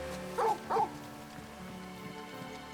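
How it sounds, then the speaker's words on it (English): Torgal, the dog companion in the Final Fantasy 16 game, gives two short barks in quick succession over a low steady game backdrop, fairly close and moderately loud. "What are you barking at, boy?"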